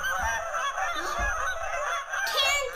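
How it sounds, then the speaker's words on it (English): A Canada goose honks repeatedly in a rapid, fairly loud series of nasal calls, set against steady background hiss and a faint high tone. "Canada goose."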